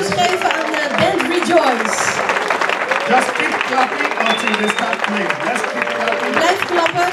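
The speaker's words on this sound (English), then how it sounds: "Just keep clapping until they start playing. Let's keep clapping." An audience at a golden jubilee celebration claps continuously ahead of a band taking the stage, dense and steady applause filling the room with voices mixed in underneath.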